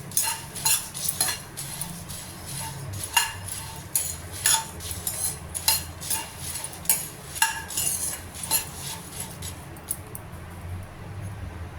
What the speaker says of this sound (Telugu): లో ఫ్లేమ్లో పెట్టి ఫ్రై చేసుకోవాలి